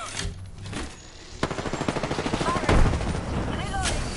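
Rapid automatic gunfire in the Apex Legends battle royale game, a burst of evenly spaced shots rattling mid-clip followed by a heavier blast, with game voice lines and effects around it.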